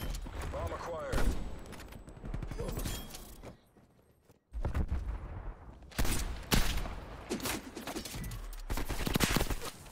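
Rapid gunfire in the Search and Destroy video game mode: loud bursts and volleys of shots that stop briefly, then resume, with voices talking over the action.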